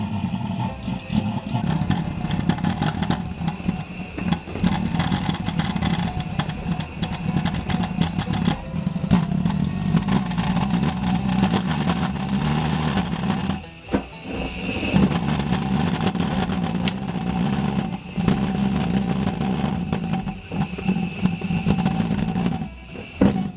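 A 3D-printed ThermoJet pulsejet engine with a plastic transition cone and steel tube exhaust runs continuously as a loud, harsh, buzzing roar that dips briefly twice, then keeps blasting steadily.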